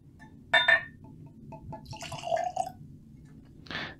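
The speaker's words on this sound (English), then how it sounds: "We're gonna pour this one into the Bourbon and College glass." Evan Williams bourbon is poured into a whiskey glass in a few short trickling bursts with light glassy clinks, fairly close but quiet against a low background hum, with no talk.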